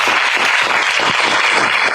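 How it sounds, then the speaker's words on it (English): An audience gives a loud, sustained round of applause, a dense steady wash of clapping that fills the whole moment with no talk over it. "one more round of applause"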